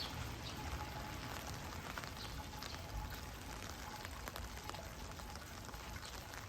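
Steady rain falling in a garden with a large climbing rose bush, a faint even patter of drops on surfaces that continues without a break, with no voices.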